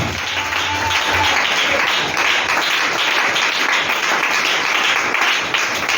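Applause from a church congregation during a French-language sermon, a dense, steady wash of many hands clapping that fills the whole span at even loudness, with no voice over it.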